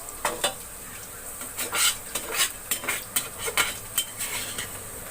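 Whole garam masala is stirred into browned onions frying in a pan: a steady sizzle under quick, repeated metallic scrapes and clinks of a spoon.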